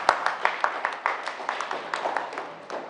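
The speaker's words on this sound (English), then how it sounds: "please clap for yourself" Audience clapping in a classroom-style session, scattered, uneven claps from a modest group, fairly close and moderately loud, tapering slightly toward the end.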